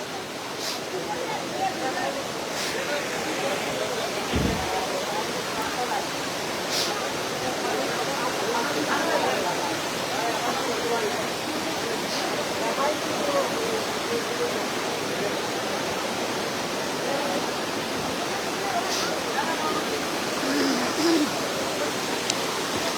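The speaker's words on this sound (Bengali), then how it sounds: "এটা হচ্ছে হাইলাকান্দি জেলার গুদামঘাট অঞ্চল এবং জলের স্রোতগুলো দেখেই আপনারা বুঝতে পারছেন" Fast flood water rising from Mizoram rushes through Gudamghat in Hailakandi district, a dense, unbroken roar of current that stays steady and loud throughout with no clear breaks.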